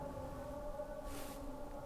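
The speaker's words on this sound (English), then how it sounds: "So this is the call for prayers." Islamic call to prayer drifts in from a distance, a sustained melodic voice with wavering held tones, faint and steady against background hiss.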